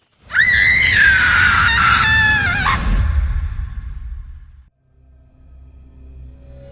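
A woman lets out a long, piercing scream of terror, loud and wavering with a sharp rise near the end, then it cuts off leaving a low rumble and quiet background.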